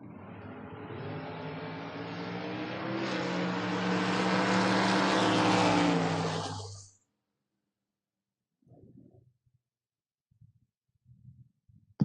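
A Camaro and a Nova in a drag race build into a loud, swelling engine roar that climbs over about seven seconds and then cuts off abruptly, followed by near silence with a few faint distant bursts.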